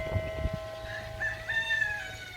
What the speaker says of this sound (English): that's the biggest rooster I've ever seen